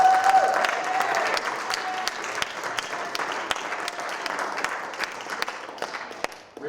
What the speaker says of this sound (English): I just want to give you a big round of applause.